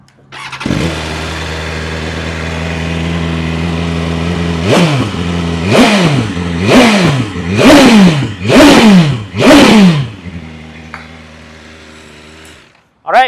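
A BMW M1000RR 50th M Anniversary Edition superbike, full carbon, fires up close by and settles into idle, then gets about five sharp throttle blips that rise and fall quickly before returning to idle.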